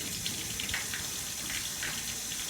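Water leaks from a joint in a rainwater harvesting pipe, making a faint, steady trickle and splatter that continues without a break, with no voices.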